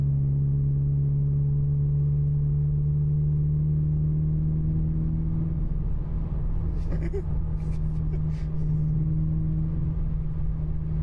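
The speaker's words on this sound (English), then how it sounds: "It's cool to have the car this bassy with stock headers, stock exhaust." Car exhaust fitted with a Supertrapp WaveTech tip in loud mode on stock headers and stock exhaust, a deep bassy steady idle drone with a low humming tone, and brief clicks and knocks later on.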